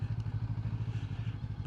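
A Honda NX500 motorcycle engine chugging at very low revs in first gear with the clutch slipped, a rapid even low pulsing, close and fairly quiet.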